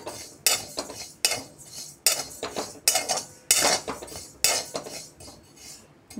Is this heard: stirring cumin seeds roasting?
yes